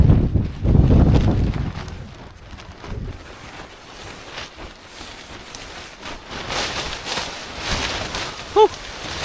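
Strong wind gusts across an exposed Dartmoor hillside beside a tent, a loud rushing buffet at the start that eases into steady blustery noise with a few brief knocks and rustles.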